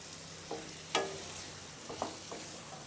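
Pointed gourd stirred with spices in hot oil in a pan, a faint sizzle under a few soft spatula scrapes and clinks, quiet and close with no talking.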